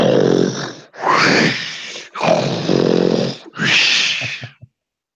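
Someone mimics a whole family snoring with their voice: four long, loud, rasping snore imitations in a row, each broken by short breaths, close to the listener, with no other voices.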